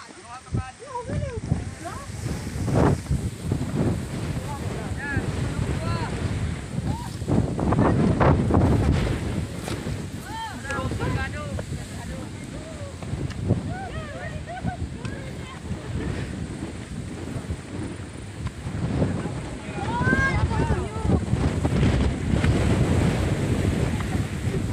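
Steady wind blows across an open hilltop at Bulalacao Hills in Libmanan, Camarines Sur, a loud continuous rush with gusts buffeting the microphone, while people talk intermittently over it.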